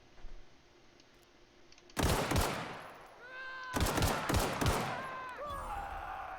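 Gunfire in the Outer Worlds video game comes in two loud bursts of rapid shots, each trailed by ringing, descending tonal tails, against a quiet game background.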